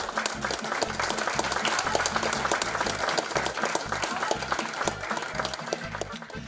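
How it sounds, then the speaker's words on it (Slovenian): A folk-music television show audience in Trzin breaks into loud, sustained applause, dense clapping filling the room steadily throughout. "In to si zasluži en zares velik aplavz."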